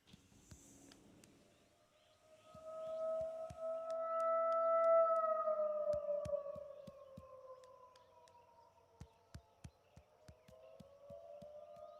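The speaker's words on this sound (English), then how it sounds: "It's a scary emergency siren they..." Emergency siren on its monthly 1 p.m. test: a long, loud wailing tone that swells upward, holds, then slowly falls away over several seconds, followed by a run of sharp clicks.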